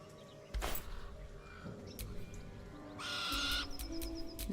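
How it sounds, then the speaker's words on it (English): A bird in the video game Baldur's Gate 3 lets out loud, harsh screeching calls that burst out near the start and again in a longer shrill stretch later, over a steady ambient game backdrop. "What bird is screaming like that?"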